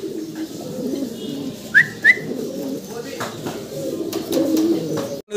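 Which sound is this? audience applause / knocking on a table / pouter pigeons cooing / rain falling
pouter pigeons cooing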